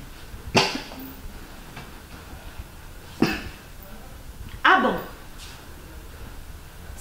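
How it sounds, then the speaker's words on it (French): Coughing in a scene from an African TV drama series: three sharp coughs spaced a few seconds apart, the last one longer and harsher, over a low steady room background. "Ça entraîne des toux."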